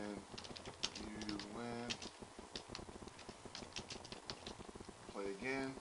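Rapid clicking of computer keyboard keys patters in quick, uneven bursts, quiet and close, while someone talks over it.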